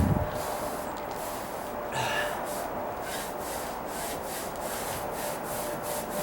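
Sand swept into the joints of concrete deck pavers makes a continuous close, gritty brushing hiss with soft repeated strokes, moderately quiet and without talking.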